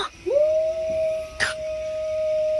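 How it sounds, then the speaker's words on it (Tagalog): A single dog lets out a long, steady howl at night at moderate distance, with a brief sharp noise partway through and a quiet background. "Ano ba naman yung asong yun? Nakakatakot."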